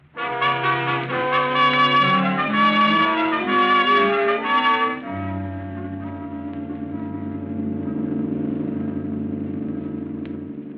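A car driving along at night, heard as a steady engine rumble with a low hum that shifts in pitch partway through; musical tones sound loudly over it at first, then fade, leaving the motor drone alone.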